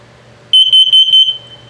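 RV LP gas and carbon monoxide detector alarm sounding during a test: a loud, piercing electronic beep repeated in about four quick pulses, close up, over a faint background hum.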